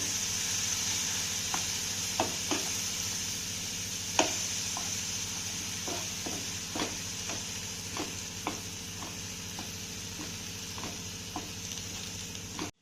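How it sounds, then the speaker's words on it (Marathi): Low frying sizzle of chillies in tempering runs steadily while a spoon scrapes and taps against the pan at irregular intervals, close by. "ही मिरची आपण अर्धा मिनिट चांगली परतून घेऊया"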